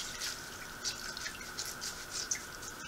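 Water dripping and trickling from a wrung-out Norwex mop pad, faint and close with a thin steady trickle and a few scattered louder drips.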